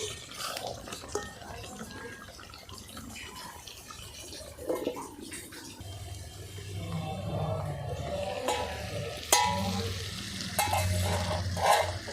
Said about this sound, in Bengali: মাংস ধীরে ধীরে কষা হচ্ছে এবং মাংসের গা থেকে তেল ছেড়ে বেরোচ্ছে